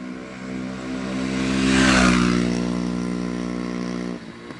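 A 1975 Yamaha DT400B motorcycle with a rebuilt engine idles close by, its steady harmonic drone swelling briefly as it revs and then settling back before cutting lower near the end.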